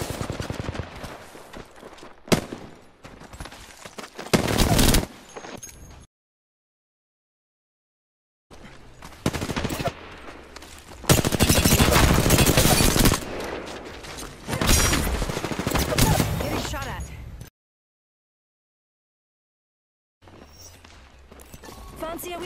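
Enemy gunfire in the shooter game F.E.A.R., dense bursts of rapid shots and impacts in loud stretches separated by silent gaps, with no talking heard.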